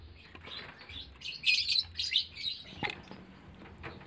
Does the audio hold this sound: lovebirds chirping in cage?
yes